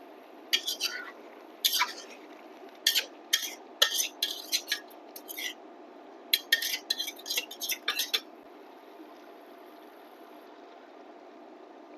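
Metal utensils clink and scrape against a cooking pot and its lid while vegetable korma cooks, in quick irregular bursts of sharp clatter over a steady low background hiss, then quiet.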